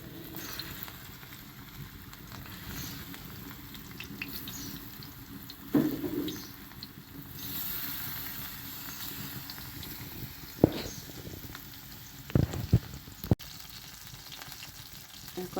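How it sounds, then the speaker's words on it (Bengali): Fish frying in hot oil in a pan produces a steady, moderate crackling sizzle, with a few sharp knocks and clinks from utensils along the way. "এই যে দিয়ে দিলাম তেলের মধ্যে মাছটা।"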